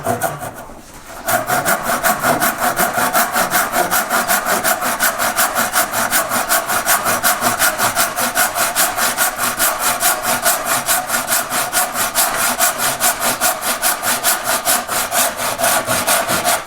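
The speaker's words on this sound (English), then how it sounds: "make some cuts along here with the saw" Hand saw cutting back and forth through a wooden board for a pierced relief carving of a yellow flag iris, steady rapid rasping strokes, loud and close and continuous after a brief pause at the start.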